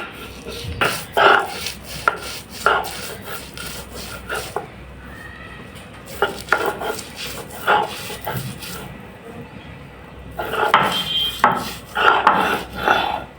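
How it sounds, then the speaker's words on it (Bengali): Shrimp and salt are ground by hand on a stone grinding slab, giving rhythmic rough scraping strokes in bursts with short pauses between them, loud and close. "স্বাদ মতো লবণ দিয়ে আগে চিংড়ি মাছটা বেটে নেব"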